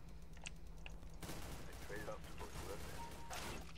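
Gunfire from an AUG rifle during a Counter-Strike: Global Offensive deathmatch, coming as a rapid burst of shots mixed with other battle sounds. A voice talks over part of it.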